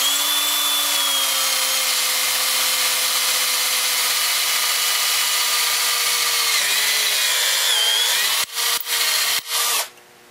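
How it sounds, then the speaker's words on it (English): A power drill whines steadily at close range for several seconds, drilling pin holes in a cloth micarta knife handle, then stops and starts in a few short bursts before winding down. "you drill these and then put the pins in"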